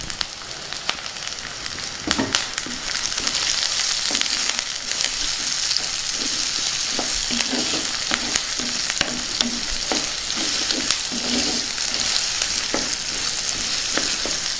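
Onions, green chillies and curry leaves fry in a pan for a yam gravy, giving a loud, steady sizzle with scattered stirring scrapes and clicks throughout, no voices.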